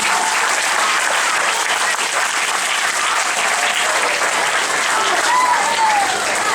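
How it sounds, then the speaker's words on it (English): Applause at an award ceremony for third-year students, a sustained, even wash of clapping from a sizable crowd that holds steady without pause. "How about another round of applause for our awesome third years?"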